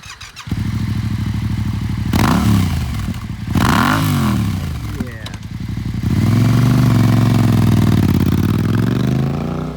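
A used 2016 Yamaha FZ-07 sport twin motorcycle starts and runs, its engine idling with a throbbing rumble and revving up several times in rising and falling sweeps, loud and close, before settling to a steady idle.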